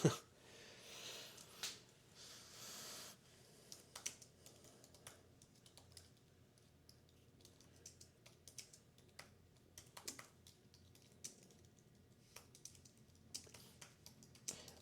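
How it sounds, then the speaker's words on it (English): Computer keyboard typed on with one hand, giving irregular bursts of soft clicking keystrokes close by at low volume, with no talking. "I'm trying to type one hand"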